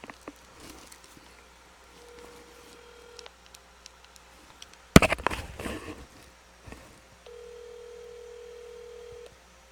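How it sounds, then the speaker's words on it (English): A telephone dials a call: steady dial-tone beeps come and go between quiet handling noises and a loud burst of rustling in the middle. "Let me call Corey real quick"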